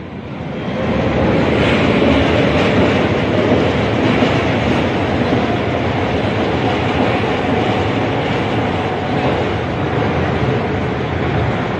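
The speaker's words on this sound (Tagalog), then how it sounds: "Ang ingay dito, tabing kalsada" Loud, steady roar of passing traffic by a roadside, a dense rumbling wash of noise with no talking.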